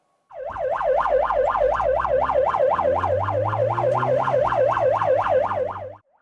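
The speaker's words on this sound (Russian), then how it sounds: "Машина скорой помощи со включенными спецсигналами мчится по одной из центральных улиц Карачаевска." An ambulance races along a central street in Karachaevsk with its siren on: a loud, continuous, rapidly warbling wail over a low engine drone, starting abruptly and cutting off after about six seconds.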